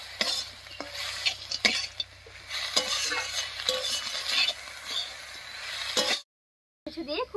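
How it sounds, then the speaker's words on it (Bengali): A spoon scrapes and stirs banana stem curry with garam masala paste, sugar and fried peanuts in a sizzling pan, with repeated close strokes over a steady fry and a brief silent gap near the end. "এবার খুব ভালো করে মিশিয়ে নেব"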